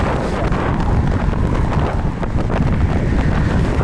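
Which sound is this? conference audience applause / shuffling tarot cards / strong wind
strong wind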